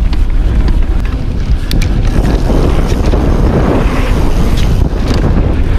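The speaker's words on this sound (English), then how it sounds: "Oh man, it is windy." Strong wind buffets the microphone during an enduro motorcycle race, a constant, roaring rush with low rumbling gusts throughout.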